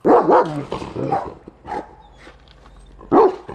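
A shelter dog barks and yips several times up close, with whimpery tones between the louder barks.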